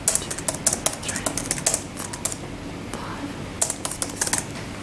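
Fingers tap quickly on a laptop keyboard during a timed speed test, clusters of sharp clicks in bursts with brief pauses, close by, while a voice speaks over part of it.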